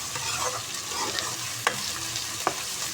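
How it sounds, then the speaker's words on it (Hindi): Onion, tomato and green chilies fry in ghee with a steady close sizzle, broken by a few sharp stirring clicks from a spoon against the pot. "प्याज, टमाटर और सब्ज़ मिर्चों के फ्राई होने के दौरान ही"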